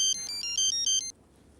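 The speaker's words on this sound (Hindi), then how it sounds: "फिर फ़ोन बज रहा है आपका।" A phone ringtone plays loud, bright, repeating electronic beeps for about a second, then cuts off into quiet.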